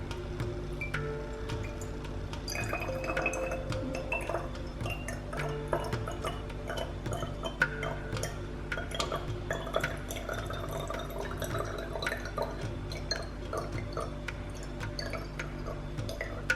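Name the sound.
pouring colloidal silver water into a funnel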